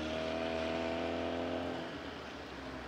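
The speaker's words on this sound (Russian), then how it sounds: "Вот только на внедорожных автомобилях можно еще проехать на ту сторону." An off-road vehicle drives through roughly half-metre-deep flood water on a submerged bridge in Preobrazhenovka, Lipetsk region, in January, its engine running at a loud steady roar with water noise that fades slightly near the end.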